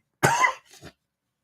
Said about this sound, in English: I do apologise for coughing and spluttering down the mic.